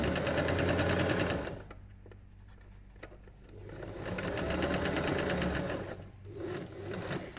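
A sewing machine stitches a narrow doubled rolled hem in fabric, running in steady fast bursts with a brief pause between runs and a short final stretch. The rhythmic needle chatter is close and clear, with no voices.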